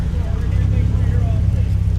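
A car engine idles with a steady low rumble during a 24 Hours of Lemons street parade at Road America in Elkhart Lake, with voices talking nearby over it.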